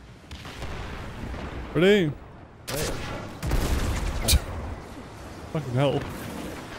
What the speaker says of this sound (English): It's just a straight up rocket launcher.